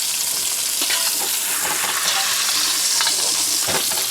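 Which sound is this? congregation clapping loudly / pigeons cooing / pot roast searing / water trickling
pot roast searing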